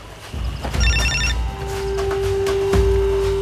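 A telephone rings in a Turkish TV drama scene, a short burst of electronic trilling tones followed by a steady held tone, fairly loud over a background music bed.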